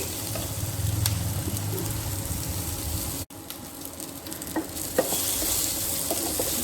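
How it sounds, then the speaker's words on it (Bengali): Thinly sliced potatoes sautéing in a pan for a vegetarian okra dish, a continuous close sizzle with occasional scraping stirs of a spatula, no talk. "তাহলে আলুগুলো সাঁতলানো হয়ে গেছে।"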